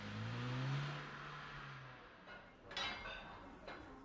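A car engine revs and pulls away, its hum dropping and fading over a couple of seconds, followed by a few faint metallic clinks against quiet background.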